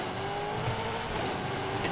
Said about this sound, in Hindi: देखो अभी ठुकरा इंसान गाड़ी लेकर जा रहा था अंदर